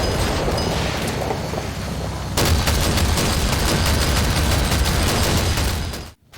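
Preparatory artillery barrage in the wargame Combat Mission: Black Sea, a dense roar of rapid overlapping blasts and booms that grows heavier partway through, then cuts off abruptly near the end, with no talking.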